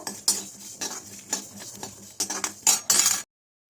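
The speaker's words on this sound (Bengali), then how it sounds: "আমি এখানে এক চামচ এক চামচ করে সব এগুলো হালকা রোস্ট করে নিচ্ছি" Spices dry roasting in a pan as masala for a sweet, sour and spicy olive pickle, with brisk metal spoon clinks and scrapes in irregular bursts, close and moderately loud, with no talking.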